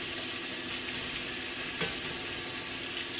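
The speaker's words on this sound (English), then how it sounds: "Oh yeah, you can hear it sizzling," Country ribs searing in a hot pan produce a dense, continuous sizzle with crackling spatters throughout, steady and close, with no voices.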